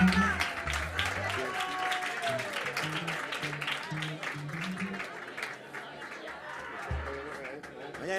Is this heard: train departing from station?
no